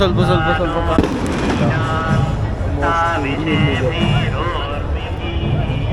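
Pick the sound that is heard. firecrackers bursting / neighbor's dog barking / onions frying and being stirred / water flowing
firecrackers bursting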